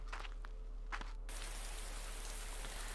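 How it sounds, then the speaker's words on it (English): Steady rain pours onto muddy ground, an even dense wash of drops with a few louder spatters early on, then a constant close hiss through to the end. "Perhaps my gloomy thoughts have brought the rain back."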